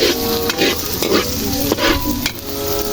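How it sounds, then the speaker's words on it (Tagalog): Balbacua, a beef skin stew, stirred in a pot: a loud, close sizzle runs throughout, with scraping strokes recurring over it. "So ito mga kapinoy, ulitin lang natin sa paghalo para maging malasa yung natin"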